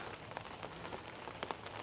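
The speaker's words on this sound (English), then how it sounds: "It looks like it wants to stop raining." Rain falling outdoors near a greenhouse, a steady soft patter with scattered drops striking a surface, faint and without voices.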